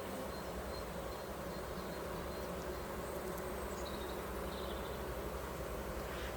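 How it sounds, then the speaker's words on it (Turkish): Bees in a queenless beehive produce a dense, continuous buzzing drone at a faint, steady level, with a few higher whining tones drifting through it and no speech. "E gördük ki bu kovanımız çok ağlıyor. Gürültü var."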